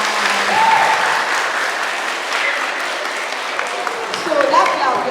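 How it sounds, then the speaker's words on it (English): Conference audience clapping together at a mind-healing event, a broad even wash of applause with some loud voices cutting in over it near the start and end. "So that clap, you are appreciating all the speakers from your school."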